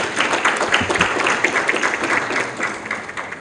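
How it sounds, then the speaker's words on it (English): Audience applause at a corporate thought-leadership event, a steady wash of many hands clapping at moderate level, continuous throughout with no pauses and no voices. "Please may we give a bigger round of applause for Peter."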